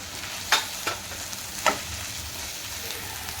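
Ginger-garlic paste with coriander powder and garam masala sautéing in oil for a Pahadi chicken dish, a steady soft sizzle punctuated by three sharp spoon scrapes against the pan.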